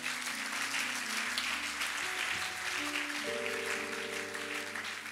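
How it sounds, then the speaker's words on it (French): Church congregation applauding during a French-language sermon, a steady broadband wash of clapping lasting throughout with sustained tonal music or organ notes underneath and no clear speech. "Acclame pour toi-même."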